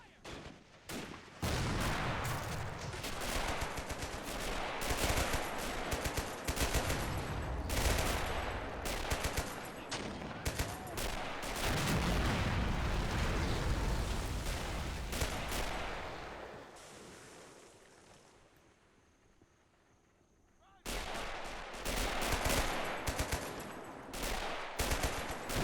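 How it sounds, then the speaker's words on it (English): Two US mortars firing in a video game battle on Natuna Island, heavy continuous barrage of booming blasts and gunfire that fades briefly before resuming loudly, with a voice talking faintly underneath. "So 2 US mortars have been deployed now to help counter the French artillery further inland."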